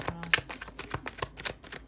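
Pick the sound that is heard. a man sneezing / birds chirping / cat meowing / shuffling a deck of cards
shuffling a deck of cards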